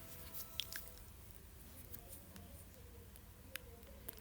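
Wet squishing and faint sticky clicks come from aloe vera gel being stirred into a homemade hair oil mixture, quiet and close, with a few sharper ticks scattered among the soft mixing sounds.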